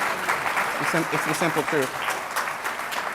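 Crowd applause at a forum, a broad steady wash of clapping running throughout, with someone speaking briefly over it.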